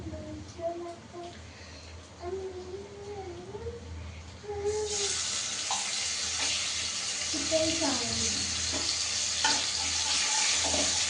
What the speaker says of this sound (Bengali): দেখো তেলটা কিন্তু ভালো বেশ গরম হয়ে গেছে। চলো এবার চিকেনগুলো আমি একটু দিয়ে দেবো।